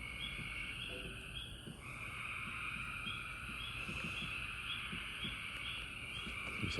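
Frogs in a backyard keep up a continuous, layered croaking chorus at moderate distance, with small soft knocks and rustles nearby and no speech.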